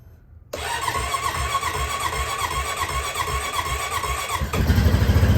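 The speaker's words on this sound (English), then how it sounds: "Cold start with the Rancher." A Honda Rancher ATV cold-starts in a garage: a short cranking burst, then the engine catches and settles into a steady, busy idle that swells louder near the end, with no talking.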